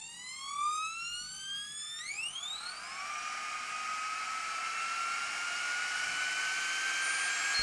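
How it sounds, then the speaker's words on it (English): A GHD Duet hot air styler blows air loudly. A high whine rises in pitch as it spins up, then settles into a steady, noisy airflow hum. "it is quite loud, it is quite noisy, but I mean, at the same time, we do have an airflow going"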